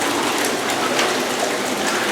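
Kohler whirlpool tub jets churn the water in a dense, steady hiss and bubbling rush, close and loud, with no talk.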